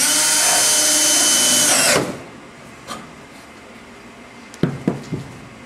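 A power drill drives a screw into rocket stove sheet metal with a loud, high motor whine for about two seconds. It then stops, followed by a few light metallic clicks and knocks.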